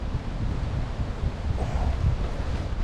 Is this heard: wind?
yes